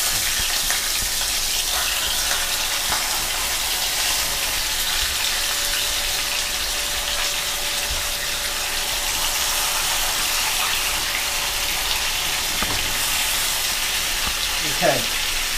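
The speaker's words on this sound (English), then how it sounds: "That's the sound of food cooking." Constant loud sizzling of beef tongue searing in hot oil in a pan, close up, a dense steady hiss with occasional small pops and clinks toward the end.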